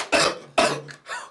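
Dry, harsh coughs close to the mic: two strong bursts followed by a weaker third, loud and alone with no talking.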